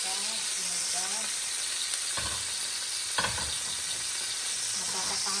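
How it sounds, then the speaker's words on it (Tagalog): Milkfish (bangus) frying in hot oil at home, a steady close sizzle broken by two sharp splattering bursts as the fish is flipped, with a voice briefly heard over it. "pwede na natin baliktarin ang ating piniritong bango"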